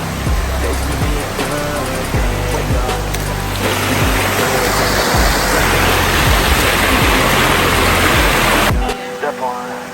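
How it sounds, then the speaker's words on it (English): The Bluefield River flowing near a beach camping spot in Westmoreland: a loud, steady broadband rush of water that fills the whole stretch, with people talking under it before it drops away abruptly near the end. "See the river here?"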